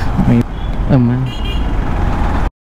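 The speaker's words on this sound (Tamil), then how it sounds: "பயங்கரமான ஒரு டிராஃபிக் கைஸ்." Heavy road traffic with car horns honking, short tooting blasts ringing out amid a rumbling engine drone, close and loud, before the sound cuts off abruptly.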